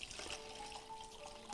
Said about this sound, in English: Put water in that bucket